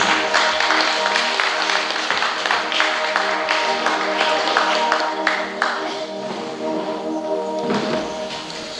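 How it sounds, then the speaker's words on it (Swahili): A church congregation claps during a Sunday morning service, steady applause mixed with voices and a sustained musical tone underneath, fairly close and continuous for several seconds. "Ongeza makofi kwa Yesu."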